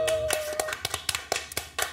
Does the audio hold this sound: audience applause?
yes